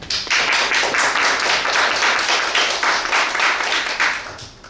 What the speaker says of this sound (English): Please join me in welcoming Professor Wu with a round of applause.